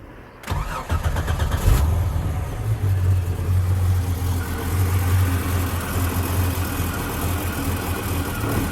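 A 1989 Jeep Cherokee engine cranks briefly, catches and settles into a steady, loud idle that continues throughout.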